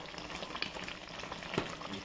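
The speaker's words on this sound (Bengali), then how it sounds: "চিনি দিয়ে আমি নাড়তে থাকবো।" Scraping and stirring of mango pickle with spices and sugar in a pan over a soft cooking sizzle, with a couple of sharp clinks from a utensil; no voices.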